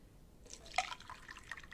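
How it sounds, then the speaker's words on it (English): Cool water poured through a funnel into a container for a lava lamp project, a faint, brief trickle with a few soft drips and splashes, quiet and close. "So I'm going to get the cool water, and this is what the funnel's for, so you can put the cool water in there"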